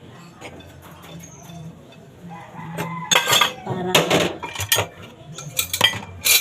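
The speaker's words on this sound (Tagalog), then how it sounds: "Kailangan naman natin maghugas ng pinggan." Plates and cutlery are washed by hand at a home sink, clinking and clattering in irregular bursts that grow busier and louder, with a brief voice and a chicken clucking faintly nearby.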